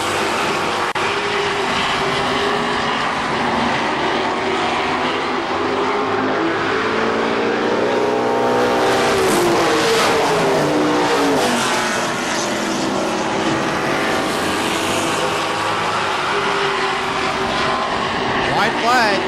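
Race cars, led by the number 91 car, roar continuously around a dirt speedway at KilKare Speedway, engines loud and sustained with rising and falling pitch as they pass.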